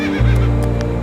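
A horse named Mr. Thunder on a farm sounds close and loud, with a steady low tone starting abruptly and a couple of quick clops or short bursts on top, though no clear whinny comes through.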